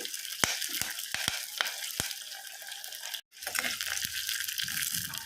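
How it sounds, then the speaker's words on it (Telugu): Garlic cloves and curry leaves fry in hot oil, a close, steady sizzle broken by sharp pops and crackles, briefly cut to silence before the hiss resumes. "ఎల్లిగడ్డ కొద్దిగంత కరివేపాకు ఇవి కూడా మంచిగా నూనెలో వేపుకోవాలి"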